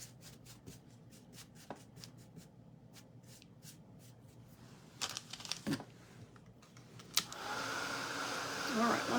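Hair dryer blowing on a freshly painted leopard-print mirror, starting faint and then rising into a steady loud whoosh near the end after some small taps and handling clicks.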